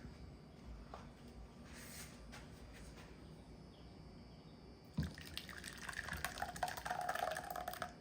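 Thick custard is poured through a strainer, making a faint, close trickle and drip that grows in the second half.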